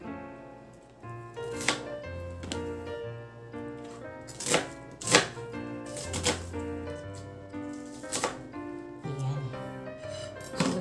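A knife chops onion on a board in sharp, irregular strokes, each a crisp close knock, while a person talks throughout.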